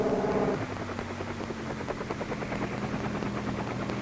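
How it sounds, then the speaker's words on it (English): A helicopter used by the Forest Service in remote, rugged country, heard as a steady, loud rotor drone with a fast, even chopping pulse throughout. "Helicopters can land small parties of men in remote and rugged places."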